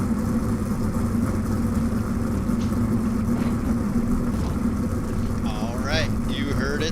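Race car engines idling at the start line of a Memorial Day shootout, a steady, continuous low rumble throughout, with a voice talking over it and a brief revving engine near the end.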